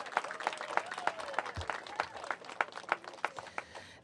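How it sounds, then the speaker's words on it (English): Applause at a mayoral event celebrating a minimum wage rise, honoring an at-large council member, with distinct individual claps in an uneven rhythm from a moderate crowd, fairly close and steady. "Give him a round of applause."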